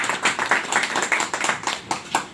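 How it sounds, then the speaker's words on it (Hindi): An audience in a training session claps for the trainer, giving a short burst of close, quick, uneven handclaps with no talking over it. "तो मैम के लिए एक जोरदार ताली हो जाए।"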